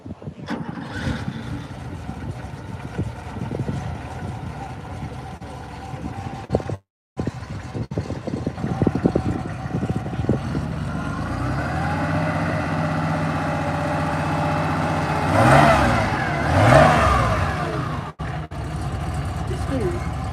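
A Porsche G-body flat-six starts and idles, with the revs rising and falling a couple of times near the end. People talk over much of it outdoors at a lakeside car gathering.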